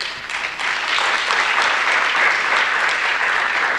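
A high school audience applauds during a musical performance of The Mystery of Edwin Drood, steady dense clapping that fills the hall throughout.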